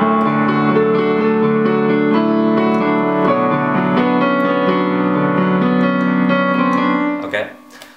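An alternative left-hand piano part, flowing low broken chords and sustained bass notes played close and full, fading at the end into a brief noise.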